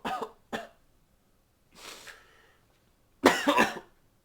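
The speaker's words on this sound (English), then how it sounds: "How long have you had that cough?" Someone coughs several times close by: two short sharp coughs, a breathy rasp after a pause, then a louder harsh fit.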